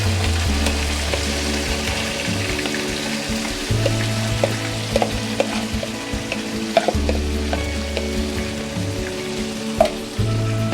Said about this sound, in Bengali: এখন আমি মাংসটা দিয়ে দিচ্ছি ম্যারিনেট করা।